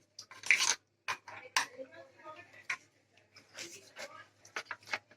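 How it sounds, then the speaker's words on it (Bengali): A spoon stirs thin cornflour batter seasoned with black salt, making quiet, scattered clinks and light scrapes against the bowl up close, with pauses between strokes. "কর্নফ্লাওয়ারটা একটু পাতলা করে গুলে নিচ্ছি।"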